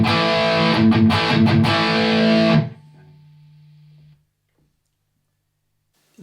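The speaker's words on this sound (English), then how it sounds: "GX100 Blues Driver." Electric guitar run through the Blues Driver overdrive model on a Boss GX100 multi-effects unit, a few crunchy strummed chords ringing out loud, then cut off, leaving a low hum that fades to near silence.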